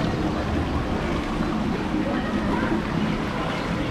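Water sloshing and rushing steadily in a resort lazy river, a close, continuous churning wash with no clear breaks, fairly loud and even throughout.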